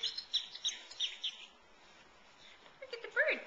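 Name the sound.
bird chirping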